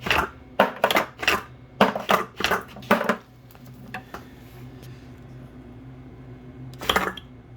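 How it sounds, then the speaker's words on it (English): A first-prototype candy machine clatters as it shifts back and forth, picks up a ball and drops it, giving a burst of close, sharp mechanical knocks. A quieter motor hum follows, then one more clack near the end. "how it moves back and forth, picks up a ball, drops it down"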